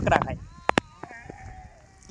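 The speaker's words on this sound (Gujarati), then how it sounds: "તો એટલે તો આ બધા ઘેટા છે ને બકરા બવડી ખાવા નીકળ્યા છે." Sheep and goats bleat in the rainy Gir forest countryside: a few short, nasal calls, fairly close but soft, following a burst of nearby talk.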